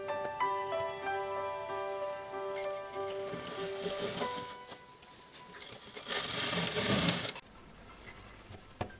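A sewing machine stitches one inch along the left side of a baby girl's dress, its motor running in short bursts with pauses, then a louder sustained run near the end; no talking.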